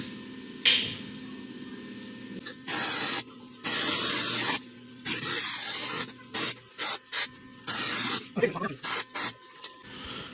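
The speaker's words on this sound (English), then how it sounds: "I'll go ahead and tack this front part on." A welder tacks the front section of a flatbed truck bed in place, giving repeated short bursts of harsh crackling hiss. Each burst stops abruptly and is separated by brief pauses, close and loud.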